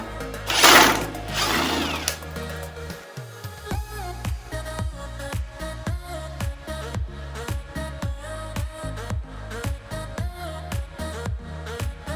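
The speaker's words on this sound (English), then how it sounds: "I can pull these screws out now." A power driver backs screws out of reclaimed lumber in a quail hutch build, starting with a loud high whine, then a long run of steady rhythmic mechanical pulses, close by.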